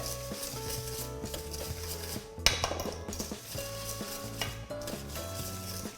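Egg yolks and sugar are stirred together in a bowl for Thai milk tea custard, a soft scraping swirl with a few light clinks of utensil on the bowl, quiet and close, mixed with faint background music.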